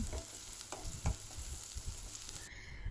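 Chili paste sizzles in hot mustard oil, a steady crackling fry with soft stirring scrapes, close but fairly quiet, and no voices.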